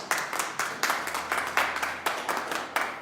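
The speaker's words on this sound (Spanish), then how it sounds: "Denle un aplauso a Dios, por favor." A church congregation claps at the close of a sermon, a small group's rhythmic, fairly even claps in a regular beat, moderately loud.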